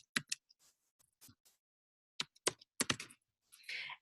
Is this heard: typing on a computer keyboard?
yes